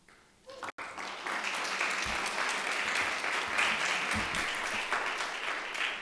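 An audience at a live-streamed New Jersey community meeting breaks into applause, a dense, steady wash of clapping that starts abruptly after a brief quiet and carries on loudly throughout.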